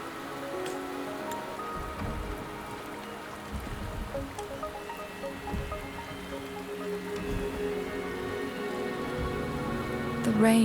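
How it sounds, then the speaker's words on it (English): Steady rain patters over a surface in the video game Wuthering Waves, a dense continuous hiss with soft drips throughout and a slight swell near the end. "The rain is subsiding, and the sky will soon clear."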